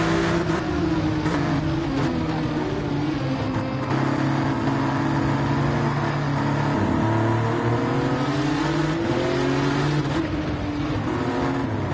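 A race car engine in Gran Turismo drones at high revs, loud and close in the onboard view, with steady sweeping pitch changes as it shifts gears and brakes through corners, other cars faint nearby.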